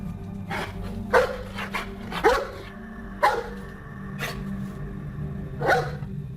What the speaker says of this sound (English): All of a sudden, she started barking.